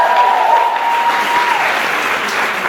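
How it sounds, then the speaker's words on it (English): An event crowd gives Liz a round of applause, a steady wash of many hands clapping at close range that stays even throughout and tapers only slightly near the end. "Give Liz a round of applause."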